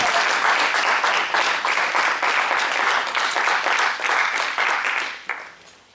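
Congregation at a Baptist church applauding together, a loud, sustained roar of clapping that holds for several seconds, then tapers off quickly near the end.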